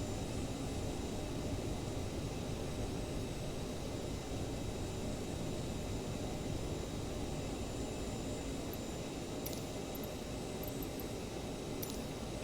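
Steady loud jet engine roar of a CRJ900 airliner heard from inside the cabin during its morning takeoff roll from Montreal, a broad continuous rumble with faint high clicks near the end.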